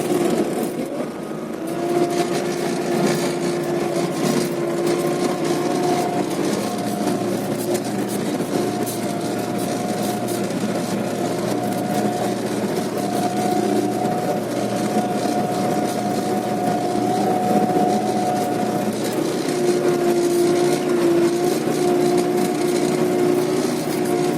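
A tractor engine runs steadily throughout field cultivation, a continuous droning hum with a constant tonal whine, close and loud with no pauses.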